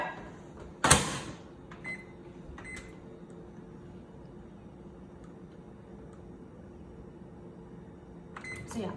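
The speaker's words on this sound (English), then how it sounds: "now we're gonna bake this for just 1 minute in the microwave" A microwave oven runs steadily, baking a chocolate lava mug cake, with a low continuous hum throughout, a sharp click or clunk near the start and a few light clicks and taps later, no voices.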